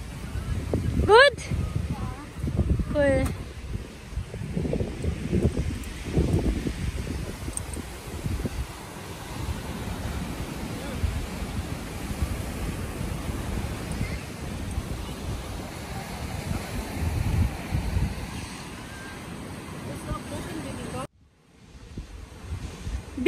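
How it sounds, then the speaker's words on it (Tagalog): Strong surf and gusting wind roar steadily on a crowded Baltic Sea beach at Ustronie Morskie, Poland, a dense broadband wash lasting about twenty seconds, with voices talking over it before it cuts off abruptly near the end. "Malakas yung alon."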